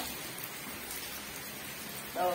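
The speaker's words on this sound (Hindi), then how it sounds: "सेटा थिला कथा वर्षा भी होछि" Steady monsoon rain falls on a rural home and mango tree, a dense continuous hiss filling the space, with a brief voice near the end.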